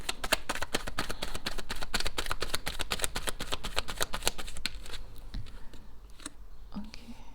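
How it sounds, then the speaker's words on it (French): Tarot cards shuffled rapidly, a steady run of close, crisp clicking flicks for about five seconds that then thins out into a few softer taps. "je vais encore tirer des cartes"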